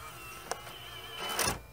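An Xbox One disc drive whirs briefly as it pulls a disc in and pushes it back out, a faint mechanical motor sound with a small click, heard close in a quiet room.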